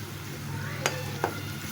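Whole spices (cardamom, cinnamon, black peppercorns, half a nutmeg, bay leaves) with chopped onion frying in oil in a pan for chicken shahi korma, a steady soft sizzle with two brief stirring clinks.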